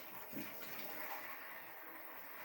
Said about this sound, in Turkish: Suyu döküp sileceğiz artık. Suyu döküyorum.